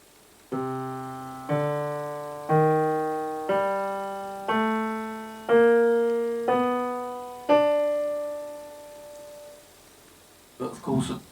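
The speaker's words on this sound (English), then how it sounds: "This is what it would sound like represented on a piano." Eight separate piano notes struck one at a time in a slow ascending-then-shifting sequence, each ringing and decaying before the next, fairly quiet and clear, followed by a brief murmur of voice at the end.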